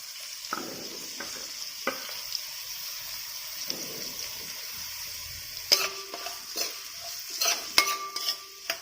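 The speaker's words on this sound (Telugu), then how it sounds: "ఇప్పుడు 3 ఉల్లిపాయలు చిన్న ముక్కల కింద కట్ చేసుకున్నవి వేసుకుంటున్నాను" Chopped onions drop into hot oil for a village-style drumstick chicken curry, giving a steady soft sizzle with scattered scraping stirs and clinks of a utensil against the pan that grow sharper and busier toward the end.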